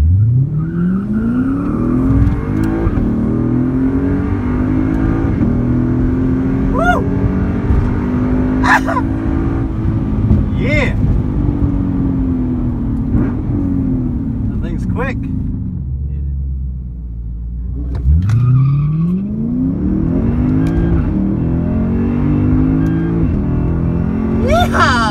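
Race cars at a drag strip roar and accelerate hard, engine pitch climbing through repeated gear changes, loud and close, with a brief lull before another car launches.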